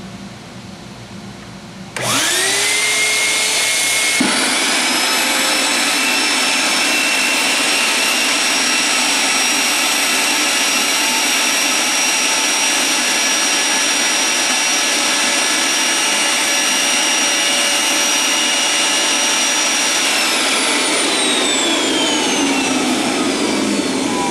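A Fornax portable vacuum former's vacuum motor switches on after a short quieter stretch and runs as a loud, steady, high-pitched whine and roar, holding constant for about twenty seconds with a slight pitch drift near the end.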